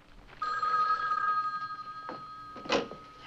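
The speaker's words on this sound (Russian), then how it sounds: "Я отвечу, Кен." An old telephone bell rings in a 1960 drama scene, a steady electric trill lasting about a second followed by a short clatter as the handset is picked up.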